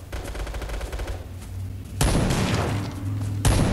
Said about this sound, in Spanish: ¡Qué bonito disparo!